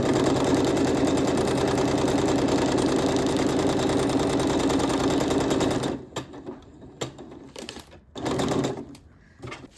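A sewing machine stitches the edge of a zipper pouch in a loud, steady run that stops suddenly, followed by a few short bursts and handling noises.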